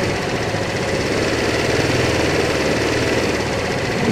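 A Kymco Agility 125 scooter idles at close range while its carburetor is adjusted. The engine gives a steady, even, slightly knocking putter throughout, with no voices.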